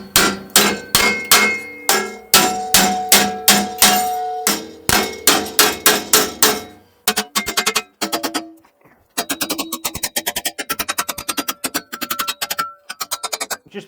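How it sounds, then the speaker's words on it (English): A hammer strikes a metal grinder rack to bend it, giving rapid runs of loud, ringing metallic clangs in even bursts with short pauses between them, close and clear. "I'm sure the hammer will be able to sort this out."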